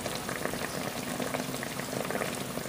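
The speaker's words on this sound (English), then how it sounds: "I'm going to turn this down to a simmer." Chicken marsala sauce with mushrooms simmers in a pan, a dense steady bubbling and light popping, close and continuous with no voices.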